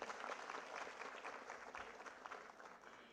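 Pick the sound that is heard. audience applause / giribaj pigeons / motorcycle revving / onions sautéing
audience applause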